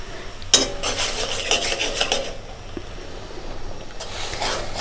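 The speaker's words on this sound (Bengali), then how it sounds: "আটাটা দেবো আর নাড়াচাড়া করব" Wheat flour is stirred into boiling spiced water in a metal pot, with a sharp utensil clank at the start, then repeated scraping and rubbing strokes against the pot, close and fairly loud.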